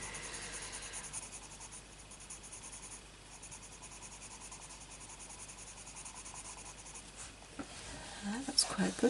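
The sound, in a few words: pencil colouring over chalk crayon on paper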